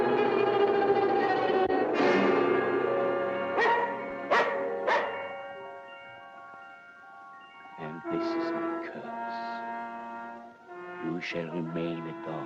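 A dog barking in an old 1940 fantasy film, several sharp barks and yips in short bursts separated by pauses, set against orchestral music with tonal held notes.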